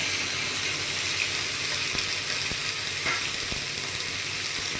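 Oil sizzles steadily and loudly as potatoes and squash fry up close for a fish curry, with a few faint clicks of stirring scattered through.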